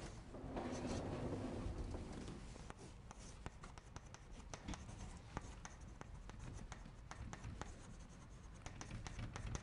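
Chalk or marker writing on a board during a university finance lecture, a steady run of quick scratchy strokes and taps in a large room, fairly faint and without speech.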